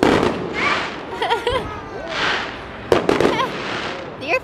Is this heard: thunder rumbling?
no